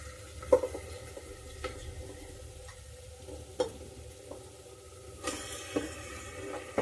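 Country chicken hits a pan of frying onions and sizzles steadily while a spoon stirs and scrapes it, with sharp clinks against the pot at irregular moments and a brighter burst of sizzle near the end.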